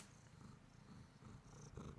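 A cat purrs softly and close, a quiet rhythmic rumbling that pulses steadily through the short stretch without any talk.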